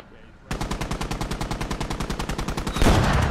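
Rapid machine-gun fire in a tank battle in the video game Squad, a fast even burst of loud shots ending in a heavy explosion-like blast.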